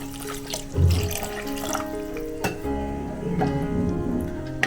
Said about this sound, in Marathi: आता ह्याच्यामध्ये मी पाणी टाकून घेते